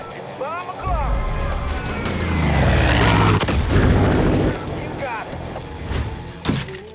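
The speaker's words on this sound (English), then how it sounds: "Kill that mortar, head to higher ground, start blowing stuff up while Nick brings down the fury." Heavy explosions and rumbling booms from the Far Cry 5 video game, including mortar fire in a combat sequence, roll loudly under someone narrating over the action.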